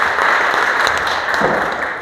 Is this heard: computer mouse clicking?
no